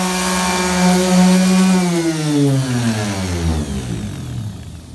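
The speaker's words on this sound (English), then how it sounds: "we're just sanding some of the paint off the top" A palm sander sanding paint off a bus roof whines steadily up close, then its pitch slides down as the motor winds down, with no voices.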